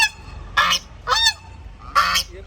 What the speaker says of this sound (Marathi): हे बघा कुत्रे मागे लागले बदकांच्या